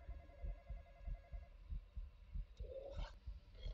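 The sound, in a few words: racing heartbeat sound in a video game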